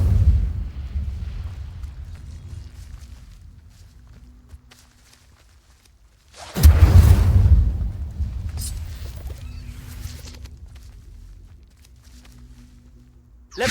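A fire spell called Incendio is cast in Hogwarts Legacy, a sudden loud fiery whoosh and burst that swells, then trails off into a long crackling rumble, after an earlier fading low roar.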